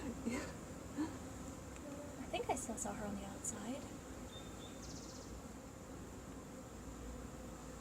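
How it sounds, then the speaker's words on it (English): Bees buzz and hum around a door close by, their drones rising and fading as they pass, while a person speaks quietly over the sound. "There are a lot of bees"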